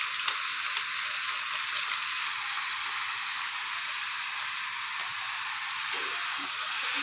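Chicken sautéing with garam masala and cumin powder in a pan makes a continuous, fairly loud sizzling hiss, with a few faint utensil ticks and no talking.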